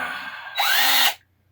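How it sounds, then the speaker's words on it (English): A Craftsman V20 cordless drill bores into wood, giving a loud, brief whirring burst of about half a second that stops abruptly, with a faint background hum before it. "Let's drill in some wood."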